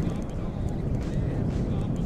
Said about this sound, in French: le vent, c'est horrible